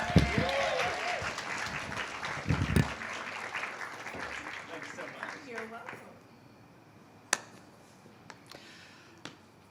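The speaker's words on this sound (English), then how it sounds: "y'all give him a round of applause" Audience applause at a storytelling stage event, a steady round of clapping mixed with voices that fades out over several seconds, followed by a few isolated claps in a hushed room.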